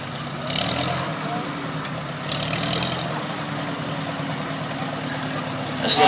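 A 1935 McCormick Deering O12 orchard tractor engine runs steadily at low idle during a parade, a continuous rumbling chug with background crowd noise and an announcer talking over it.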